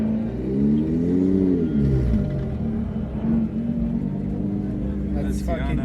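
At a car meet, a car creeps backward with a low rumbling engine that rises and falls in pitch as it moves, heard close by under several people chatting.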